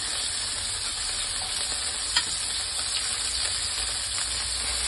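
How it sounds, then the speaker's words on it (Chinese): Chicken wings fry in a pan until both sides turn golden, giving a steady, dense sizzle close up with faint spatula scrapes and no speech. "咁我哋煎到呢另外一面呢都已经有金黄色啦"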